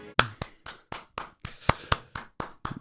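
A single person's hands clap about a dozen times in a quick, slightly uneven rhythm, each clap sharp, close and loud against otherwise quiet surroundings.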